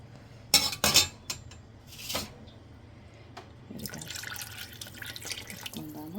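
Tamarind rasam poured into a vessel in a home kitchen: a few quick liquid splashes and pours near the start, then faint trickling and clatter, with a low kitchen hum throughout.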